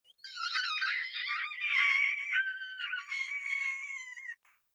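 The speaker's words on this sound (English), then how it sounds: "and the Pangosian child screamed." A child's high-pitched scream in an audio drama, a sustained shrill wail that rises and wavers for about four seconds before cutting off, loud and alone without other sounds.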